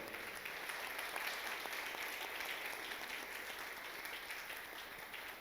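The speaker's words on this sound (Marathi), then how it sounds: "सगळ्या देवाच्या निवडलेल्या संत गणांसाठी जोरदार टाळ्या वाजवून प्रभूचा गौरव करूया." A church congregation applauds in praise, a continuous wash of clapping at a fairly distant, even level from start to finish.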